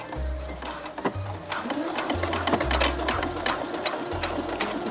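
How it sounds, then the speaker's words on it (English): Sewing machine stitching vinyl with a fine needle, a series of close mechanical runs in short bursts, each stop and restart clearly separated, with a steady rhythmic whir and ticking needle strikes. "First time stitching vinyl, here it goes."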